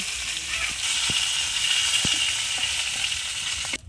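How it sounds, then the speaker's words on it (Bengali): Fish coated in salt and turmeric sizzle loudly in hot oil while a utensil turns them, giving a few sharp taps and scrapes against the pan over a continuous hiss. "মাছের ভাজা হয়ে গেছে, নাড়িয়ে নেব।"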